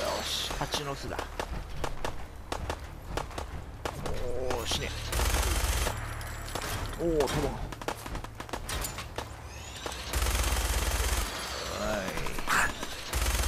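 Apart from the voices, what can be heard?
machine gun fire from power armor in Fallout 4 video game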